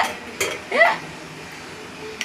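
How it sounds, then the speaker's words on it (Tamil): A spoon clinks and scrapes against a pot as vegetable dum biryani rice is gently stirred, making a couple of short close sounds over a faint background. "இது வந்து கொஞ்சம் மெதுவாக அப்படி கிண்டி விட்டணும்"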